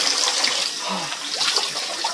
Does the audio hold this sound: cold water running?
yes